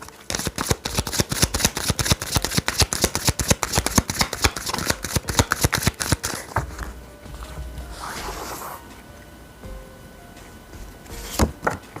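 A deck of tarot cards is shuffled in rapid, crisp riffling bursts for several seconds, then the sound drops to softer card handling with a brief flick near the end.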